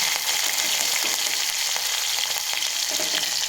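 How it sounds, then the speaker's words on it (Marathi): Finely chopped green chillies fry in a spoonful of hot oil in a pan, a dense, even crackling sizzle holding steady and close for a few seconds. "नंतर गॅस बंद करून परत 1 चम्मच तेल टाकायचं आणि नंतर याच्यामध्ये टाकायचे बारीक चिरलेल्या हिरव्या मिरच्या"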